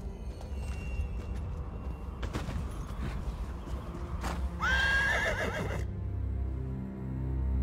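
Horses in The Elder Scrolls, hooves clip-clopping and snorting, then one loud, close whinny rising and falling for about a second before fading into ambient background.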